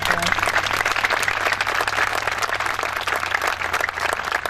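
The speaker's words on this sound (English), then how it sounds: "so I'd like to give him a really warm round of applause" Warm round of audience applause at a concert during a fire department's 100-year celebration, dense and sustained clapping from a large crowd, steady and fairly close throughout.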